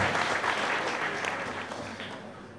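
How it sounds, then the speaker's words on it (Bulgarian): Audience applause at a live storytelling reading, dense clapping from a crowd that is fairly quiet and eases off gradually over a few seconds. "Аплодисменти."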